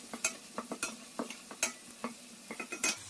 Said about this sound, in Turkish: içine hazırladığım biberleri ve sarımsakları ekliyorum. Biberleri de şöyle bir çevirdikten sonra